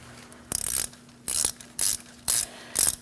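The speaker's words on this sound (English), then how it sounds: "Now we're going to remove our ABS sensor." A hand ratchet loosens a bolt while an ABS sensor is removed from the steering knuckle of a 2012–2020 Chevrolet Sonic, giving five quick, close bursts of clicking in a steady rhythm.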